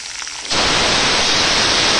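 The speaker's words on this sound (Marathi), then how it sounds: "टमाटर हे पण तेलामध्ये चांगले फ्राय करून घेते" Tomatoes dropped into hot oil in a pan, a sudden loud hiss of frying that bursts in after a quiet moment and holds as a dense, steady sizzle, close by.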